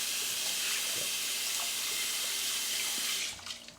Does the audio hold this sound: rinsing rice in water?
yes